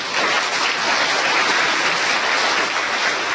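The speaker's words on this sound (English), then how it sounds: "We clap anew." An audience claps in steady, even applause that stays loud and dense throughout, with no voices over it.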